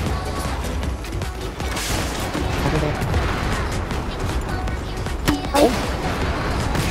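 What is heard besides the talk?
grenade explosions and gunfire in video game Battlefield 4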